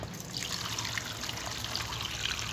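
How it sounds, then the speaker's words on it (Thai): Limewater poured onto one kilogram of sliced papaya in a kitchen, a steady close trickle and splash of liquid running continuously at moderate level. "เทน้ำปูนใส ใส่ ในบักฮุงเลยจ้ะ"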